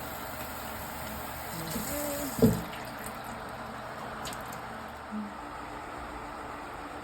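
Faint water from a tap runs into a sink while berries are rinsed, with a soft low trickle, a brief clunk and splash near the middle and a small knock later.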